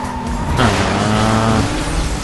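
A racing car engine in the video game Need for Speed Most Wanted roars loudly and close, its pitch rising and then holding steady as the car closes in, with a hint of tire noise.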